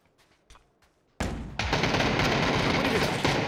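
Shotgun fire in a shooter video game: after a few faint taps, a sudden loud blast hits, then a second, each followed by sustained, roaring noise.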